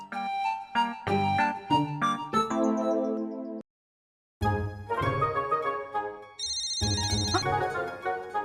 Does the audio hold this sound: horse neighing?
no